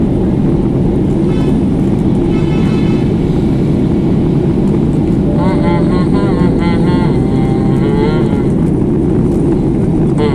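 Qatar Airways airliner descending to land at Kannur, Kerala: loud, unbroken engine roar fills the whole stretch while voices talk over it.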